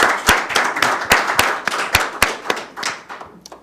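Hands clap in a live TV studio audience on Martha's Vineyard, sharp, fairly sparse claps landing in an uneven rhythm rather than a full wash of applause, close and loud with no talk.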